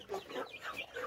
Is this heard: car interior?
no